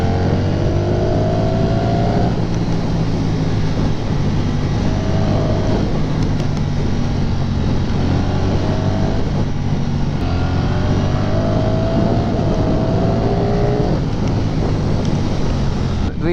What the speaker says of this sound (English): I'm not even revving it around like 4 or 5000 RPM.